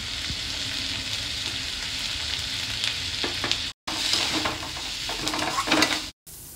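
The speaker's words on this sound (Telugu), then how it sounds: "ఒక గుప్పెడు కరివేపాకు, కొంచెం ఉప్పు వేసుకుందాం మెత్తపడటానికి," Curry leaves, salt and turmeric fry in a pan with a loud, steady sizzle. Scraping stir strokes run through it, and the sound cuts out briefly twice.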